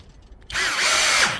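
A HOTO 12V brushless drill spins up at top speed and drives a self-drilling screw, giving a loud, sudden whine that stays steady after a brief quiet start.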